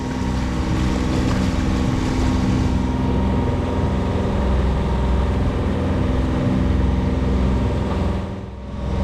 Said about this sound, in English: Man, that looks just like an ordinary ski boat.